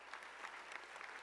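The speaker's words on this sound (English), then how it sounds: "Come on, let's clap it up for homecoming." A convocation crowd of new students and families claps for homecoming, a faint, distant patter of applause with a few sharper claps rising out of the steady wash.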